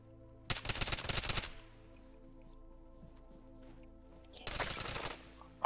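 Two bursts of rapid automatic gunfire in an SCP shooter game, one near the start and one near the end, loud and close, with a low steady hum filling the quiet stretch between them.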